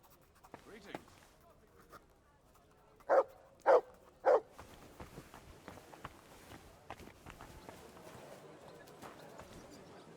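Three sharp dog barks in quick succession from a mutt in the video game Kingdom Come: Deliverance II, heard over soft footsteps and hoof clops amid quiet ambience.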